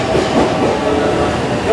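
A limited express train pulling into a platform at JR Osaka station during morning rush hour, a loud, close rolling rumble with wheel clatter and faint squealing, a voice briefly audible beneath it.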